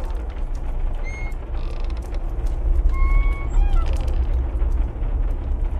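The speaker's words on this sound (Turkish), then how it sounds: "Kapıyı açtım." A door creaking open in an old house, giving a few high, drawn-out squeaks over a steady low background rumble.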